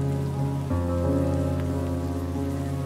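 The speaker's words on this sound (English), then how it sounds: "The endless patter of rain on the street creates a wordless song." Steady patter of rain falling on a street in the video game Behind the Frame, a dense continuous wash with a low tonal music bed underneath, no voices.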